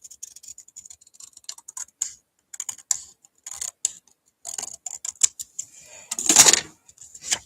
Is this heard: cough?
no